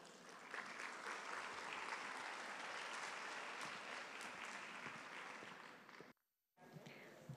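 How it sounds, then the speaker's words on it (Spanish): Audience applause at an international conference, a sustained dense wash of clapping that holds steady for about six seconds, cuts off abruptly into near silence, then resumes faintly at the end. "Así que recibimos con un fuerte aplauso a Danae Millar Pusch."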